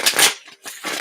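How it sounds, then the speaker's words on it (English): Two quick riffles of a tarot deck being shuffled, close and crisp, separated by a short pause. "let me shuffle the deck about 3 times."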